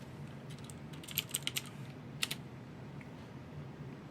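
Quiet typing on a computer keyboard while an IP address is entered into PuTTY: a quick cluster of crisp keystrokes, then a brief pause and a couple more taps over faint background hiss.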